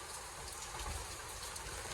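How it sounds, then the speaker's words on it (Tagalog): Heavy rain pours down in a sudden downpour amid thick fog, a dense, steady wash of noise with no break, fairly close and even throughout. "Lakas ang ulan."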